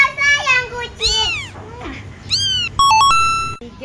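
A cat meows in a few rising and falling calls, spread through a short stretch and mixed with children's chanting voices.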